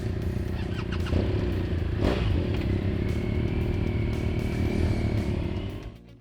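A BMW R1200GS Adventure motorcycle engine revs with a dense, loud, rough throb that swells and holds steady, easing off and cutting away at the very end, with no talking.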